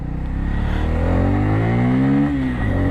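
A Bajaj Pulsar N250 motorcycle engine revving up steadily and climbing in pitch toward the rev limiter, then dropping briefly. The engine sounds loud and close, with no other sound around it.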